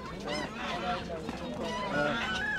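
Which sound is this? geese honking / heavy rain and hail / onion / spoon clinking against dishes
geese honking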